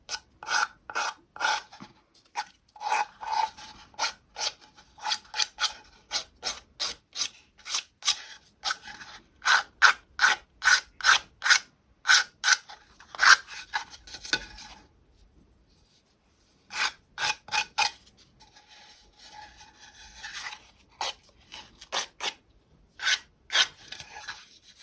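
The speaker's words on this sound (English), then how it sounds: "so I'm just going to sand that round" Sandpaper rubs the rough edge of a painted wooden box top in quick rhythmic bursts of close, dry rasping strokes, grouped in runs separated by short pauses, with a longer break before the final strokes.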